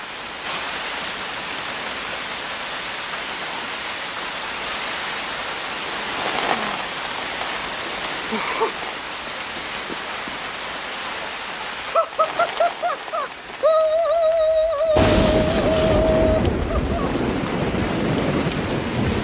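Heavy rain pours down steadily in a scene from The Truman Show, a dense continuous wash of noise with a few sharp knocks and a brief tone near the end.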